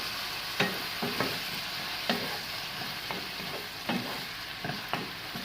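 A spoon stirring tomato sauce through braised pineapple chicken in a sizzling pan, with regular scraping strokes about once a second over a soft steady fry, no voices.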